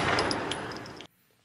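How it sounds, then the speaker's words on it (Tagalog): Gunfire during a street brawl in Quezon City, heard as a dense burst of loud, sharp cracks that stops abruptly after about a second into near silence. "maririnig ang tunog ng putok ng baril"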